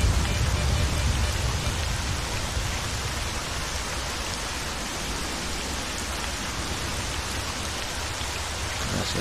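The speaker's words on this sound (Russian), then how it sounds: "Ой, гроза, дождь." Steady rain with a thunderstorm in the STALKER: Shadow of Chernobyl game, a dense continuous broadband wash of rainfall with low rumbling underneath, loud and unbroken throughout.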